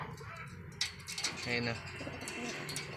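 Pigeons coo softly among bird sounds, with brief rustling and a short spoken remark over them at close range.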